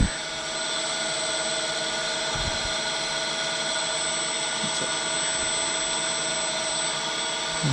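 A lathe runs at its fastest self-drilling feed speed with a steady, loud mechanical whine and hum throughout, broken by a few brief knocks.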